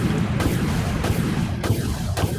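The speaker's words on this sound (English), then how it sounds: "Let me try torpedoes. Torpedo launch." Torpedoes launch from a giant spaceship in the space combat game Dreadnought as four heavy booming thuds spaced about half a second apart over a dense, continuous low rumble.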